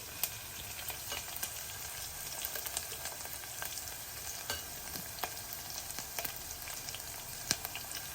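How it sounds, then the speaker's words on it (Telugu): Garlic frying in a pan gives off a steady, close sizzle throughout, broken by occasional light clicks of stirring, with no voices. "వెల్లుల్లిపాయలు మాత్రం కొద్దిగా మగ్గనిద్దాం వేగితే బాగుంటాయి ఎర్రగా"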